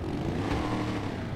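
In GTA, a Slamvan truck engine fitted with a big exhaust revs in one short, loud, close burst, with a throaty tone rising and falling briefly.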